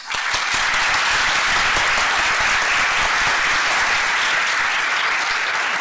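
An audience welcomes lecturer Mark Weiner with loud, sustained applause at a talk on Trumpism and American politics. The clapping is dense and steady from start to finish, with no speech over it.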